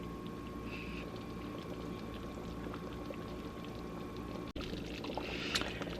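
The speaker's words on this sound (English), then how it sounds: "So I'm just gonna let it simmer for about another 10 minutes." Beef pot pie filling simmers in a pot with a steady, soft bubbling and low burbling. A faint constant hum sits beneath it, and a brief clunk and a slight swell come near the end.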